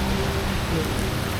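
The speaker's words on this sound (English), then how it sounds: "the rain is fat. Big, big, thick blobs of rain." Heavy rain with big, thick drops falling at the seashore, a dense steady hiss of drops hitting surfaces, loud and close with no gaps.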